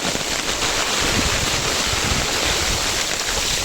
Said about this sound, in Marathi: बरोबर निघायच्या टायमाला जोरदार पाऊस आलाय बघा ना